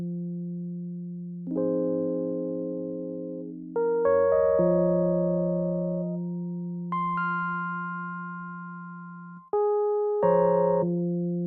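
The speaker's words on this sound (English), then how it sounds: "The very last thing I added is this electric piano, which is from Lounge Lizard Session." An electric piano from the Lounge Lizard Session instrument plays a slow series of sustained chords, each struck cleanly and left to ring and decay, soft and close with no talking.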